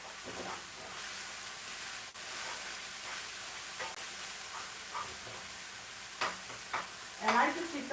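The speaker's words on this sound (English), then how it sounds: "you want to get that umami on it, that browning, where you can see it brown, not all boiled, because this is a stir fry." Meat browns in a hot stir-fry pan for a cabbage bowl, giving a constant close sizzle and hiss with a few louder spits and stirring scrapes near the end.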